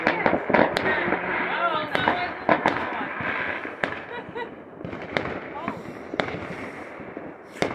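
New Year fireworks and flares going off, with repeated sharp bangs and crackling bursts at varying distances over a constant background rumble, while people talk and exclaim excitedly throughout.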